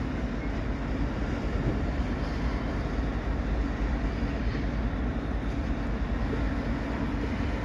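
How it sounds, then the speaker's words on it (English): A BNSF train of tank cars rolls past, a steady broad rumble with continuous wheel and rail noise holding at an even level throughout, no voices. "David, here comes your a bunch of BNSF tanks."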